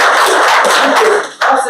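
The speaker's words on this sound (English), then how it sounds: "We just give him a round of applause." People at a senate meeting give a round of applause, a short, loud burst of clapping close by that dips briefly and then picks up again.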